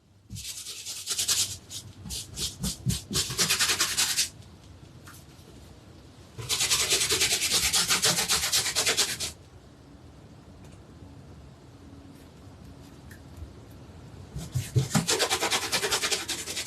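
Brush scrubbing pigment into a heavily textured surface, heard as three bursts of harsh, raspy rubbing separated by quieter pauses, close and fairly loud with no talk.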